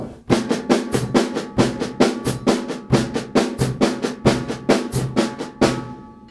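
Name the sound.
jazz drums playing quarter note triplets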